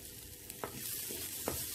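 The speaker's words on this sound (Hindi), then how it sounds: "ये प्याज को भी हम थोड़ी देर के लिए भुनेंगे" Chopped onion frying gently in a pan for dhaba-style dal fry, a soft steady sizzle with a couple of brief stirring scrapes, fairly quiet and close, with no talking.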